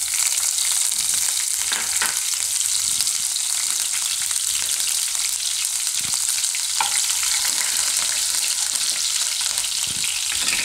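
Cumin seeds and chillies frying in hot oil for a Gujarati banana-fenugreek curry, a steady close bright sizzle with faint crackles and occasional stirring clicks throughout.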